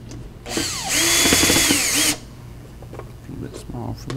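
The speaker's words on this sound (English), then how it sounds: "Go ahead and run a couple of the screws in to just where it doesn't move anymore." A power drill drives screws into a homemade 3-string panjo, whirring loudly in one sustained burst of about a second and a half, followed by quieter handling sounds and a voice.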